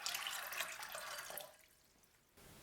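Broad beans are rinsed under a running tap, a near splashing stream of water that thins to quiet dripping midway, then resumes briefly.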